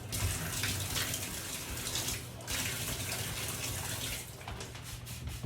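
Steady running water splashing and pouring onto a shower curtain liner in a tub, a continuous broadband rush with a few brief surges, close and fairly loud.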